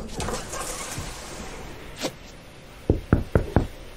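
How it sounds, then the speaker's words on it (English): Four quick, evenly spaced knocks on a door come near the end, sharp and close, after a stretch of muffled rustling and shuffling. "And this time, try knocking."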